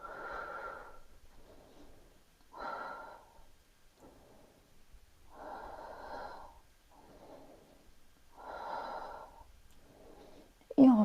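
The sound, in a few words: slow breathing during yoga exercise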